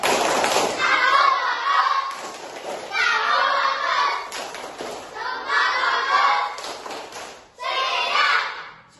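A class of children claps a rhythmic focus clap together, loud bursts of patterned claps separated by short pauses, repeated four times, with young voices chanting along.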